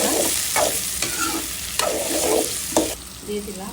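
Onion and tomato fry in a pan with salt, a steady loud sizzle broken by several sharp scraping stirs of a spoon against the metal, close up with no talking.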